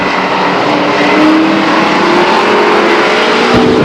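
Race cars roar together as they accelerate on a restart at Stockton 99 Speedway in 1999, a loud, steady wall of engine noise holding throughout with no voices.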